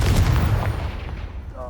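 A Confringo fire spell cast in Hogwarts Legacy lands as a loud, booming blast close by, rumbling heavily before trailing off over under two seconds.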